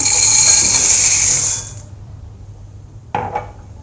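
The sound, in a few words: dry macaroni poured into a bowl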